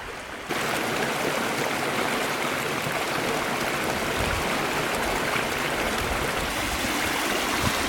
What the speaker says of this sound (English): Nice little set of cascades here along the trail.